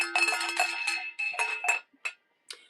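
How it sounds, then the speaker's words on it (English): Two small bells ring in quick, bright, close jingling bursts, followed by a few fainter isolated clinks as they settle. "You're getting 2 bells."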